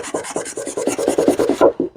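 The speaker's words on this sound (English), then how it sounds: "Run that sanding block around," A sanding block rubs back and forth over a wooden stretcher bar in about a dozen quick, even rasping strokes, close and loud, then stops abruptly.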